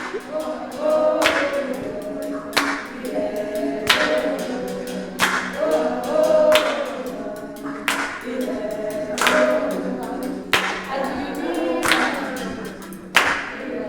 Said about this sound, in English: Feel free to sing along or clap along.